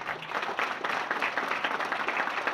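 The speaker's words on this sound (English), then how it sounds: "a big round of applause" Sustained applause from an audience at a Murray State Hall of Fame induction ceremony, even dense clapping at moderate distance, no talk.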